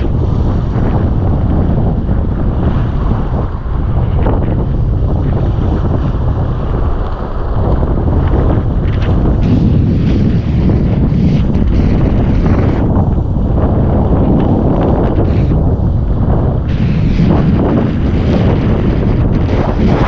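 Strong 11 m/s wind roaring over the microphone while kitesurfing on a hydrofoil under a Flysurfer Hybrid 7.5 kite, a loud continuous buffeting rush with water spray underneath, no talk.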